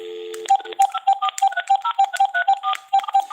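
Touch-tone dialing on a cell phone: a brief dial tone, then a quick rhythmic run of about twenty short beeping keypad tones at varying pitches, loud and close, with no talking.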